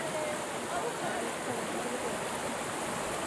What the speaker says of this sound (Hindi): पानी का बहुत बहाव गहरा बहुत है। तेज है